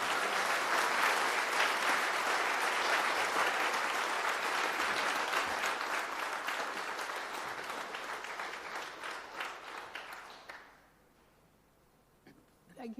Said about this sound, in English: could I ask you please to welcome and applaud Bettina Arndt